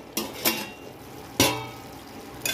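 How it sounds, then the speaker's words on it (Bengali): A metal lid is handled on a cooking pot of simmered potato and bitter gourd, giving a few sharp, close metallic clinks spaced apart in a quiet kitchen. "আমি ঢাকনাটা খুলে দেবো।"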